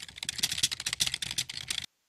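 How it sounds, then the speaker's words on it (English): Computer keyboard typing, a quick dense run of crisp key clicks at an even, busy rhythm, close and clear, stopping abruptly with no voices. "the typing."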